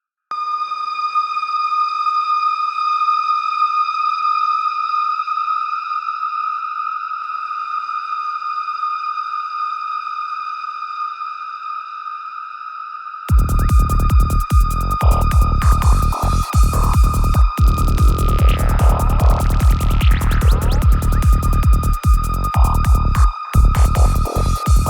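Formant-shifted vocals drenched in a long, bright Valhalla Shimmer reverb: sustained pitched tones ring out alone, then a denser, rapidly pulsing layer of shimmering texture joins halfway, loud and atmospheric with a lingering tail.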